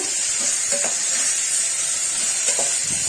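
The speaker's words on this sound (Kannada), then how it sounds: "ಇದನ್ನು ಹಾಕ್ಕೊಂಡು ಚೆನ್ನಾಗಿ ಫ್ರೈ ಮಾಡ್ಕೋಬೇಕು" Red mutton pieces fry in a pan with a loud, continuous sizzling hiss, close up and steady, with faint stirring clinks beneath.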